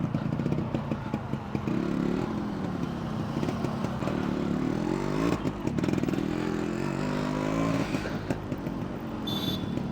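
A Yamaha RX100 motorcycle fitted with a 135 silencer exhaust idles and revs close by, its steady throbbing beat continuous and loud with brief surges in engine pitch.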